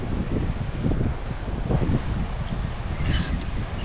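Gusty wind buffeting the microphone outdoors near a tilapia fishing net ahead of rain, a continuous low roar with brief swells and no talk.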